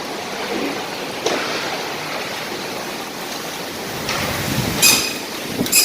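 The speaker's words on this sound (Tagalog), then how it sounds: "Umulan na po, umulan." Rain pours steadily during a sandstorm in the UAE, a dense, hissing wash with occasional louder gusts and faint knocks, no voices present.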